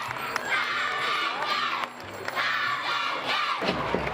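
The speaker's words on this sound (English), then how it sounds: "Big round of applause for the ladies." A loud, dense crowd at a Saint Patrick's Day event cheers, whoops and shouts in continuous waves, with a brief dip before the roar surges again.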